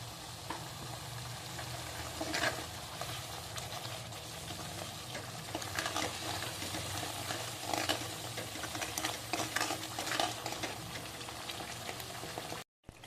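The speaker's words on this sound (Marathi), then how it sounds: "मिक्सरमध्ये तो घालायचा आहे छान असं तेल सुटेपर्यंत मस्त असं परतून घ्यायचं आहे" Ground dry masala frying in oil in a pan for misal, a soft continuous sizzle with faint crackles and occasional stirring scrapes, steady and close throughout.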